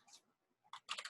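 Keyboard and mouse clicks at a computer running CAD software: a couple of quiet, close taps followed by a quick cluster of sharper key presses.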